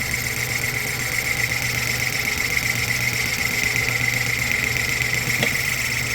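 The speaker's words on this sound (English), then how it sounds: "let's take another 2 thousandths. And take a deep cut." A 1930s Craftsman Atlas metal lathe takes a deep cut on an old broken Maglite flashlight part, giving a steady, loud mechanical drone with a constant hum and high whine throughout, plus a single brief click near the end.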